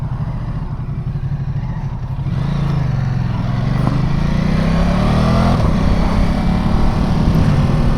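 A 2019 Ducati Multistrada 950S motorcycle accelerates hard through the gears, its engine note loud and close, rising and swelling steadily from about two seconds onward with no talking over it.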